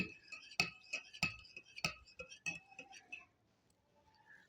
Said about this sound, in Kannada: ಚಮಚ ತಗೊಂಡು ಇದನ್ನು ಚೆನ್ನಾಗಿ ಸ್ಟಿರ್ ಮಾಡಿ